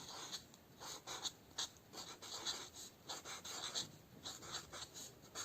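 Pen scratching across paper in short, uneven strokes, faint and close with no voice, as the word "octopus" is written into one of three sections of a story plan.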